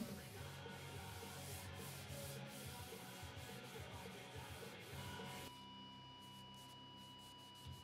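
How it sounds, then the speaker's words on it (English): Fine 400-grit sandpaper rubs steadily over the finish on a mid-century cedar chest in a continuous, close scratchy hiss that grows slightly softer partway through. "In between coats, I give it a sand with 400 grit, as well as a fine scuff pad."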